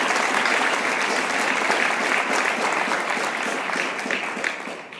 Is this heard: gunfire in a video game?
no